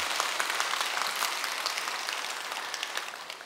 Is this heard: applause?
yes